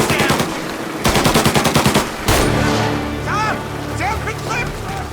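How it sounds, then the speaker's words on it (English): Combat gunfire in the video game Mafia Definitive Edition: a rapid burst of machine-gun fire, then further shots with ricochet-like whizzes, loud and close against a busy battle background. "When combat breaks out here, the player must use a combination of tactics and weapons to defend Sam."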